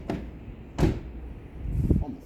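Car doors on a new Dacia Sandero Stepway shut with a few solid thuds. Three separate closes land at the start, near one second and near two seconds, with background noise between them.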